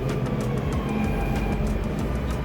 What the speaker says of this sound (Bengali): তো মেট্রো আসতেছে,